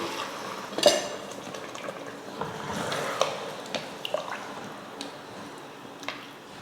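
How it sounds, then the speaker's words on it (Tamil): Water is poured from a tumbler into a pot of seeraga samba rice for chicken biryani, a soft steady splash broken by metallic clinks and scrapes of the cup against the pot, with no talking. "இதில் நம்ம தண்ணி சேர்த்துக்கலாம்"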